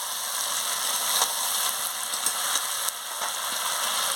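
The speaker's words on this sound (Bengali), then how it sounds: "ভালো করে কষিয়ে নিচ্ছি দেখুন জলটা ভালোভাবে মরে গেলে তারপর জল দিয়ে দেবো" Goat meat sautés in a pan for a curry, giving a steady, close sizzle and crackle of frying with a few brief stirring clatters, and no talking.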